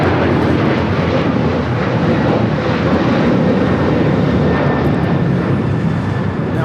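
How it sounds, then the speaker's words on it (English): A United Airlines Boeing 737-900ER takes off at LAX airport, a loud, continuous jet roar that holds steady throughout with no voices. "Now taking off is United Airlines 1863, taking off to Phoenix on the 737-900ER"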